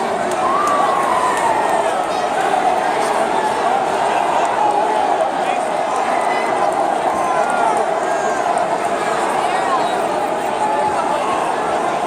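A big crowd at a Donald Trump rally roars and cheers in a loud, steady wash of voices, with shouting rising over the din throughout.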